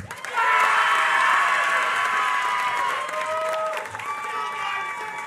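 A large crowd at a university public health commencement ceremony applauds and cheers loudly and steadily, with scattered whoops and shouts rising over the dense clapping before it eases slightly.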